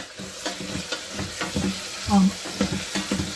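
A cooking machine sautés in its caramelization mode: steady sizzling under repeated scraping stirs of a spatula against the inner vessel, close and rhythmic, with no talk.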